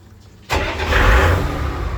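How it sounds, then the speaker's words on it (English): Car engine cranks and catches at about half a second, then settles into a steady, fairly loud idle set near 1000 RPM for the rest of the clip, close by with no talking. "I'm going to start the engine in a normal idle speed, which I set about 1000 RPM"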